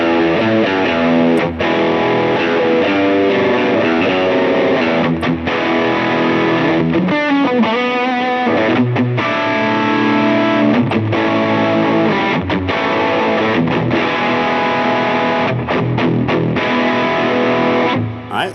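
An electric guitar plays driven chords and lead lines through a UAFX Ruby Vox AC30 amp pedal, loud and sustained with a distorted edge and brief pauses between phrases.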